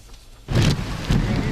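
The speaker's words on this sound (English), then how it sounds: "Howling wind and heavy rain in the early hours of today." Heavy rain and howling wind as Typhoon Higos strikes Hong Kong in the early hours; a quiet hiss bursts abruptly into a loud, dense roar of rain and gusting wind that stays intense throughout.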